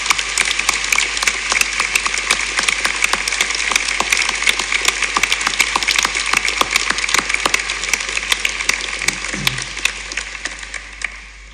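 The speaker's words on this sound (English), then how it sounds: "applause, please." A hall audience at a Derby University graduation ceremony in 2022 gives a steady, crackling round of applause for an honorary graduate, with dense, even clapping lasting throughout.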